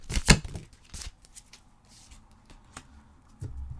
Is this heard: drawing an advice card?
yes